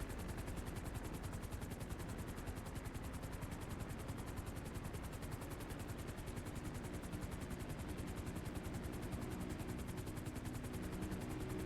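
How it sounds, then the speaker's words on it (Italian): A helicopter in a roleplay video game, Pablo Escobar's chopper getting ready to take off, runs with a dense, constant rotor chop that stays loud and steady from start to finish. "Uno con l'elicottero di Pablo Escobar sta per partire."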